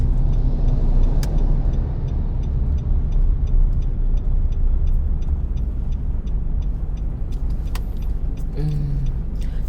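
A car pulling in to park by a roadside spot, low engine rumble steady throughout with faint rhythmic ticking and a few brief clicks near the end.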